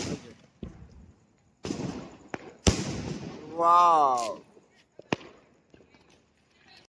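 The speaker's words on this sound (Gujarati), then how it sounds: "સ્કાય શોટે ધમાકા મચાવી દીધા હો." Sky shot fireworks at a Diwali celebration go off in several sharp, loud bangs spaced apart, with a few faint pops after them, and a voice exclaims between the blasts.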